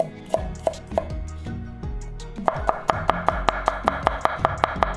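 A knife roughly chops garlic on a cutting board, a few slow separate strokes and then a quicker, steady run of sharp chops.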